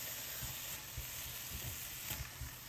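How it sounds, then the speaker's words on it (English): Shrimp, carrots and green onion fry in a skillet, giving a steady, fairly quiet sizzle that runs through the whole moment with no talking. "And then we're gonna go ahead and drop our shrimp in there."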